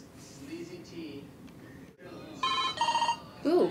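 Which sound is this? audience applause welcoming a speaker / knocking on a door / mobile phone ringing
mobile phone ringing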